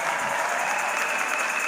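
Steady, dense applause from a congregation at a worship service in Cité Béthel church, a continuous close wash of clapping that holds evenly without pause.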